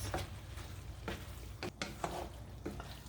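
Spicy Italian sausage and zucchini lasagna filling being stirred in a pan, soft scraping strokes with a low sizzle underneath and occasional utensil taps against the pan, faint and close.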